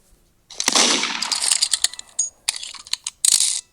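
Gunfire in a Roblox video game: a loud burst of rapid shots followed by scattered sharp cracks and metallic clinks, close and punchy, with short gaps of silence between bursts.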